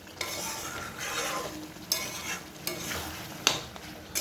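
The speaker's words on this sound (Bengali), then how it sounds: "আলুটা দিয়ে ভালো করে কষাতে হবে" Potatoes being sautéed in oil with fried spices, a soft continuous sizzle under repeated scraping strokes of a spoon against the pan, with a few sharper clinks, close and moderate.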